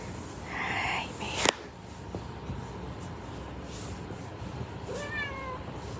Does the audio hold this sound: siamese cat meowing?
yes